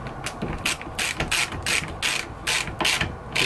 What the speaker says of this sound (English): I'm just going to tighten up one side, or just the top clamps, just to hold it in place